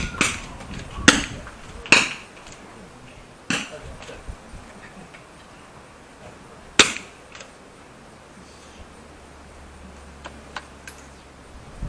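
Rifle shots ring out at a prone shooting competition as sharp, scattered cracks, some near and some farther off, spaced irregularly over a quiet range.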